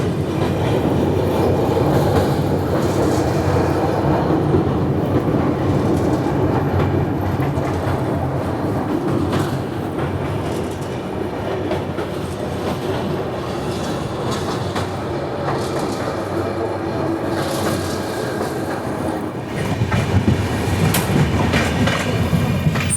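The Capital Express passenger train runs steadily along the rails between Kamakhya and Siliguri, heard from inside as a constant loud rumble with rhythmic clatter from the wheels.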